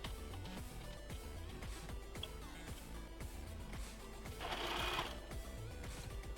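An overlock serger sewing machine runs continuously nearby with a fast mechanical whirring and needle chatter, briefly rising in intensity before settling back.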